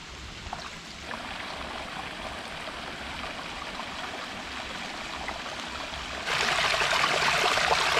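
A small woodland brook with rust-brown water flows steadily in a New England forest, giving a continuous close rushing and trickling wash that grows a bit brighter and louder near the end, with no voices.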